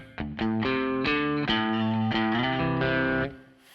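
A baritone guitar's dry basic tone through a Kemper Profiler with all effects switched off: a series of strummed chords, each ringing with full sustain, clean and upfront, then fading out at the end.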